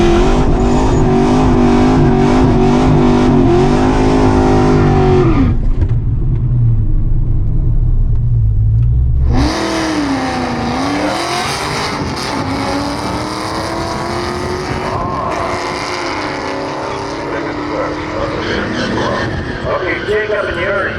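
A Ford Mustang GT engine roars and revs hard on a drag strip, dropping briefly to a low rumble before surging again in a long, loud acceleration.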